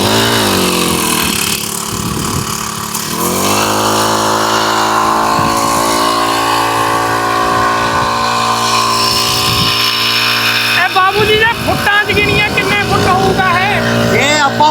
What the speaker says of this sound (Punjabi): ਪਹਿਲੀ ਰੱਸੀ ਸਟਾਰਟ ਡਾਇਮੰਡ ਪਲੱਸ 65 ਸੀਸੀ ਦਾ ਇਹ ਜਾਂ ਪੰਪ